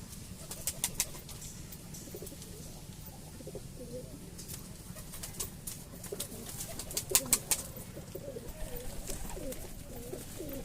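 Kalshira and Fulshira Giribaz pigeons coo in a Bengal loft, with soft, continuous low coos and a few brief chirps from nearby birds, and no talk.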